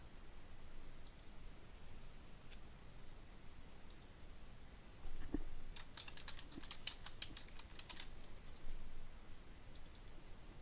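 Keys clatter on a computer keyboard as a folder name is typed, a short burst of quick clicks near the middle over faint steady background hiss.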